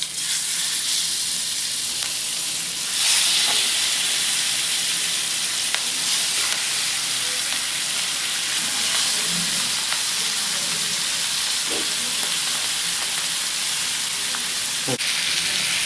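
Masala-coated pomfret fish sizzles loudly in a pan with curry leaves, a steady dense hiss with a few sharper pops and a faint scrape, no talking.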